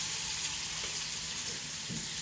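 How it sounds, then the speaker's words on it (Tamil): Onions and popped mustard seeds fry in hot oil for South Indian thakkali bajji, giving a steady close sizzle with a few soft stirring knocks. "கடுகு பொரிஞ்சிருச்சு, வெங்காயத்தை போட்டுடலாம்."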